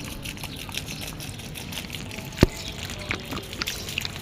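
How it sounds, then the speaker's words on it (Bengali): Water is poured onto a plant, giving a steady, soft splashing trickle at close range with a few small drips and splats standing out. "একটু জল দিয়ে দিই।"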